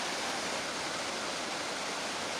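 The 300-year-old water features at Kassel Wilhelmshöhe mountain park cascade in an unbroken, dense rush of falling water, loud and steady with no breaks.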